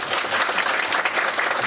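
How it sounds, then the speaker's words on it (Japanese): Audience applause at a small live concert venue, a thick, even wash of many hands clapping at full strength without a break, no voices on top. "大きな拍手で、こちらのマスターです。"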